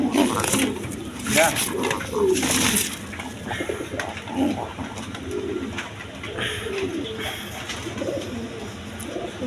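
A pair of German seal pigeons coo in repeated soft, throaty rolling phrases, close by, with a voice talking over and between the calls.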